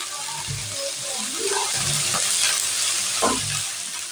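Cowpeas and sheem beans sizzle in a pan with turmeric added, a steady frying hiss under a few scraping stirs from a spatula, close and moderate in level.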